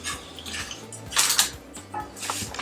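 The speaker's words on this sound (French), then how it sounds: "entendez le croustillant, hein?" Crisp grilled potatoes being cut with a knife and fork on a plate, producing a few short crunchy crackles and light scraping clicks, close up, with no one talking.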